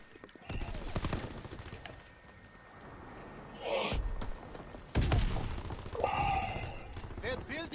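Gunfire from a light machine gun in Call of Duty WWII, on the Shipment map: bursts of shots, some in rapid volleys, with louder cracks around the middle, mixed with other game noise.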